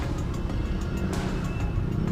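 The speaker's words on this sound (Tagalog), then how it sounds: "Buti naman nagbigay yung tricycle, pumuntik." Motorized tricycle running on a road amid street traffic, a steady close engine drone with low rumble lasting throughout, no talk.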